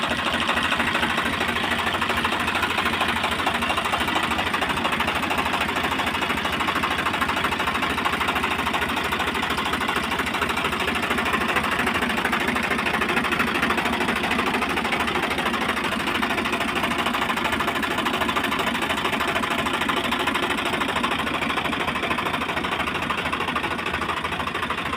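A Swaraj 742 FE tractor engine chugs at a fast, even rhythm throughout, a steady rattling drone with no voices.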